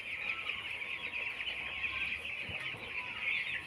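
A shed full of 17-day-old broiler chickens keeps up a dense, continuous chorus of peeping and clucking, close and steady throughout with no voices.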